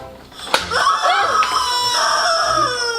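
A squawking toy chicken from the Sqwuak game lets out a loud, close, strained crowing screech after a sharp slap, the wavering cry stretching for a couple of seconds.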